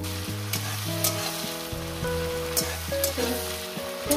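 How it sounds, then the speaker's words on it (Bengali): Tomatoes fry and are stirred in a pan with ghee while mung dal with rohu fish head is cooked, a steady close sizzle broken by scraping stirs, with a low tonal hum running underneath. "বন্ধুরা টমেটো আমরা ভেজে নিয়েছি"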